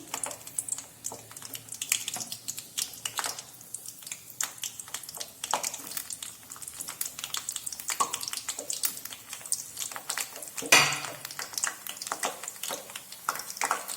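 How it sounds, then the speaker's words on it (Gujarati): Whole eggplants fry in hot oil with a steady, fine crackling sizzle made of rapid small pops, fairly quiet and close, with no talking. "આ રીંગણને આપણે 4 થી 5 મિનિટ માટે તેલમાં તળી લઈશું"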